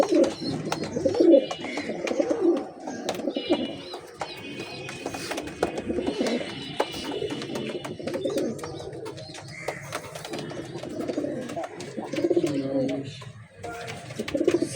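Giribaz pigeons coo in low, rolling bursts close by, repeating throughout while someone talks over them.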